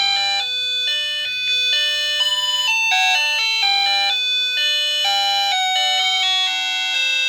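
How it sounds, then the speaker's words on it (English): A reborn baby doll's small music box plays the lullaby Rockabye Baby as a bright, chiming melody of plucked metallic notes, close and clear, running steadily with no voices. "So it sounds like it's playing Rockabye Baby."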